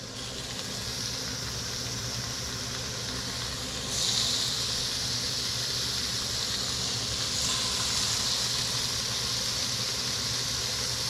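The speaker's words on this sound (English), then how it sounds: "now that pan feels good and hot, we'll go ahead and start laying our fish in there" Sheepshead fish fillets, seasoned and buttered side down, go into a hot cast iron skillet, producing a steady broad sizzle that grows louder and brighter partway through as more fillets are laid in, with no talking.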